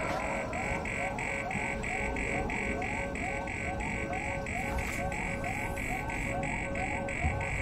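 Repeating electronic alarm tones pulse steadily and continuously in the Alien Isolation video game, a loud regular beeping pattern with a buzzing edge that runs through the whole stretch over a dense noisy background.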